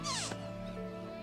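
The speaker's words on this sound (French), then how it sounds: "C'est Nabokov, le chat de Monsieur Loyal." Cartoon cat giving a single sharp, loud meow at close range, falling in pitch, followed by a sustained tonal background.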